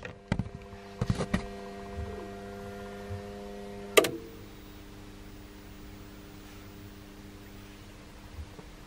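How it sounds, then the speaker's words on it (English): A Raspberry Pi running on UPS battery power gives off a steady, low electrical hum that continues throughout, with a few sharp clicks near the start and one louder click partway through. No one speaks. "it's making a bit of a louder humming sound than what it did previously when it was connected to the"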